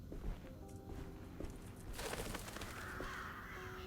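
Crows caw several times in a swampy video game setting, faint and somewhat distant over a low ambient background, with no talking.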